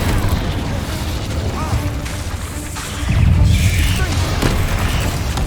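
In Hogwarts Legacy on PS5, the Incendio fire spell bursts out with a heavy whooshing boom that swells midway and rumbles through a busy combat soundscape, while a voice speaks over it.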